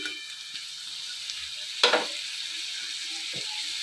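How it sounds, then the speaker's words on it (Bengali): Prawn heads fry in a pan with a faint steady sizzle, broken by one sharp louder burst of spitting oil partway through and a few soft clinks. "এখন দিয়ে ভালো করে মানে চিংড়িটা মাথাটা ভালো করে একটু ভেজে নিই।"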